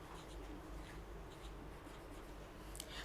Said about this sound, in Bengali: তো আমি এখানে লিখবো সেটা।